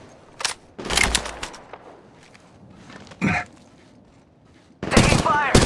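Enemy gunfire in the mobile battle royale Apex Legends Mobile, loud broadband bursts of shots at the start and in a sustained volley at the end, with quieter scuffling between.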